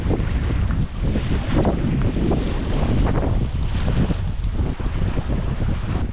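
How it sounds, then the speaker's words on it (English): Strong wind roars and buffets the microphone continuously, a loud, dense rushing noise with no pauses. "It's extremely windy today."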